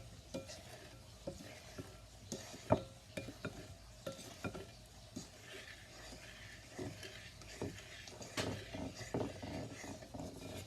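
Spoon stirring a homemade no-cook playdough mixture in a bowl, with repeated soft scraping and light clinks against the bowl, faint and fairly close, no talking.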